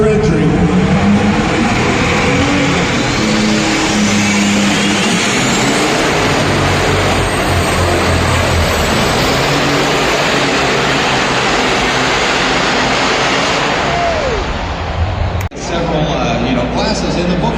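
Inline 6-cylinder pulling truck at a pulling competition drones loudly under an announcer's talk, a sustained engine roar that holds steady before a sharp break near the end.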